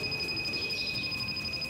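Car air-conditioning refrigerant leak detector giving a quiet, rapid series of short, steady, high-pitched electronic beeps against faint background hiss, with no talking.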